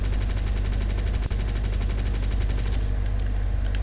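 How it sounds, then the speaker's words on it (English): Rapid automatic gunfire from a World War 2 shooter game in Roblox rattles as a dense, steady burst of shots. It is loud and continuous throughout, with one sharper crack partway in. "Right, I got my rapid fire."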